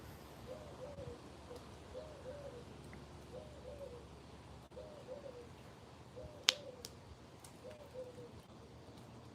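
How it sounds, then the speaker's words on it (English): A mourning dove gives soft, repeated cooing calls at a steady rhythm, faint and distant over a low background, with a sharp click near the end. "That's not an owl, that's a mourning dove."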